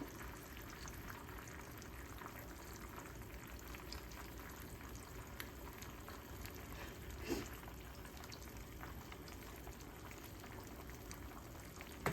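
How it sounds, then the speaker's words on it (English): Eggs heating in oil in a pan on the stove, being scrambled, give a steady, soft, continuous sizzle and bubbling hiss throughout, with no talking. "The eggs are heating up in the oil and getting nice and scrambled."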